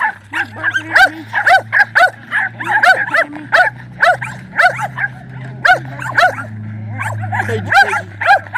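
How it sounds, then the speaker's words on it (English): Several pet dogs bark and yip at home, sharp repeated barks in quick irregular bursts close by, with whimpers between and a low steady hum underneath. "You barking at me?"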